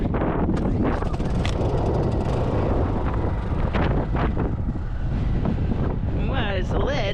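Strong desert wind storm buffets the microphone near Quartzsite with steady loud roaring gusts, and a voice speaks briefly near the end.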